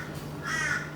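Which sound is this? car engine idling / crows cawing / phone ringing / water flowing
crows cawing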